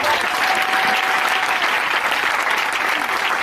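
A church congregation breaks into steady, sustained applause with cheering, dense and continuous throughout, in a large gathering at a religious convention.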